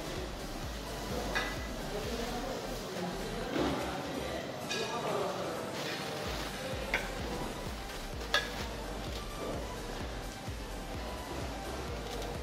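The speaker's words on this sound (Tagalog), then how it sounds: "We're cooking a sauce." A sauce simmers and gets stirred in a pan while cooking a big batch of meals, a soft sizzle with steady scraping and clinking of a utensil, and voices chatting over it.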